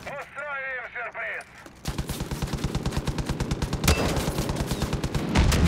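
Rapid gunfire in the video game Far Cry 5, a dense run of loud, evenly spaced shots following a brief stretch of muffled voice-like sound at the start.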